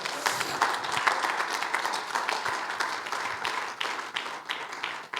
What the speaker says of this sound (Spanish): Esto se merece un aplauso fuerte al Señor